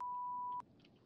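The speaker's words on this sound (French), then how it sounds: "Veuillez parler après le bip sonore." A French voicemail system's record prompt beep: one steady, clean electronic tone lasting about half a second, followed by quiet line hiss.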